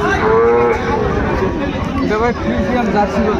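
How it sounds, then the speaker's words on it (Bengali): A Friesian-Jersey cross bull calf moos loudly and repeatedly at a livestock market, its calls rising over steady crowd chatter and murmuring voices nearby. "ফ্রিজিয়ামের জার্সি বাচ্চা, ষাঁড় বাচ্চা, ফ্রিজিয়ামের জার্সি ষাঁড় বাচ্চা।"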